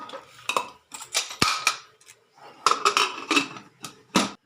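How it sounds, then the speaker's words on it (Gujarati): A pressure cooker lid is set on and locked while cooking a Gujarati black-eyed pea curry, giving several close metallic clanks and scrapes in quick irregular bursts with short pauses between. "તો આપણે એને હવે કુકર બંધ કરી દઈશું."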